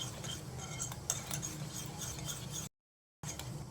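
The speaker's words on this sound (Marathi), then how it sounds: "छान असं मिक्स करून घ्यायचं आहे, म्हणजे याचे लप्स तयार होणार नाही।" A spoon stirs a Manchurian batter of flour and water in a bowl with steady, close wet scraping and soft clinks, ending in a brief dropout before the stirring resumes.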